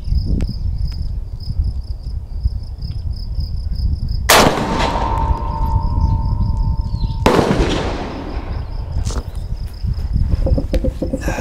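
Two sharp deer rifle gunshots crack out a few seconds apart outdoors, each with a trailing echo, over a steady background of chirping crickets and insects.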